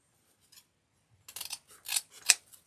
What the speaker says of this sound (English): now we can trim our tails